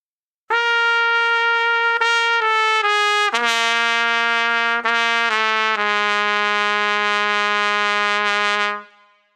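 A trumpet plays a James Stamp warm-up, a chain of sustained, connected notes stepping down a chromatic octave, clear and close with no gaps and no talking.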